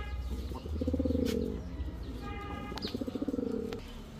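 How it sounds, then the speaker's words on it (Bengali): Racing pigeons cooing at close range in two long, throaty bursts of rolling coos, with a brief pause between them and light chirps and rustling in the background. "এখন একটা মিলি রেসার নর কবুতর দেখাবো"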